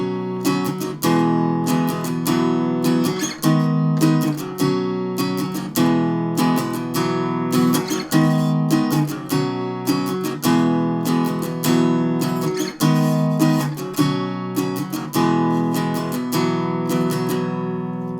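An acoustic guitar strums chords for a song in a steady down-up rhythm, the same short pattern repeating many times with crisp attacks, played close and alone.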